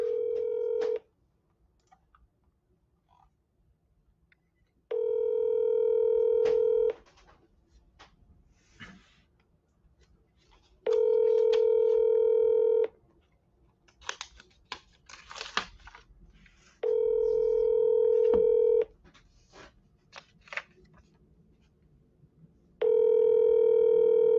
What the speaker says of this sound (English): All right, let's call Jamie here